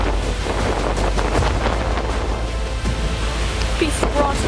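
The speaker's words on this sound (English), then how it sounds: "Look at the wind speed right now." A powerful derecho windstorm roaring steadily and loudly, with heavy buffeting against the microphone and a deep rumble throughout.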